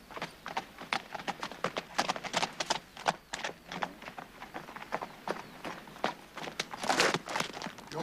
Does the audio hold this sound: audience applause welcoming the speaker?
no